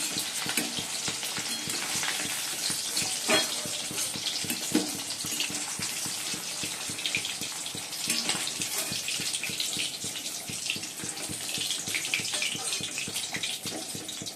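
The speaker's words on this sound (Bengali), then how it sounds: "এই জন্য চিলি চিকেন করবো, তার চিকেনগুলো ভেজে নিচ্ছি।" Chicken pieces for chilli chicken frying in a pan, a dense, continuous crackling sizzle at moderate level with scattered sharper pops throughout.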